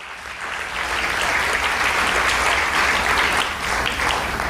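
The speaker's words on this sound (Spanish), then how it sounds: "Dale un aplauso al Señor" A church congregation breaks into applause, a dense, sustained clatter of many hands clapping together, steady and fairly close for several seconds.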